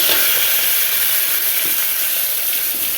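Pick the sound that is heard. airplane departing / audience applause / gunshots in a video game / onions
onions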